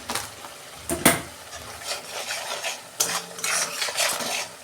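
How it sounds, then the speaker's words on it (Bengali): Spices and mixed vegetables for vegetarian khichuri sautéed in a pan, with repeated scraping stirs and clatter over a light sizzle, close and fairly loud. "2 মিনিট আমি কষাবো।"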